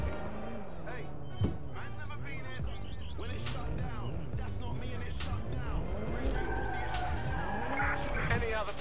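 Car tires squealing through a handbrake turn in the Watch Dogs: Legion video game, a loud sustained skid with engine noise and shifting pitch, overlapped by someone talking throughout.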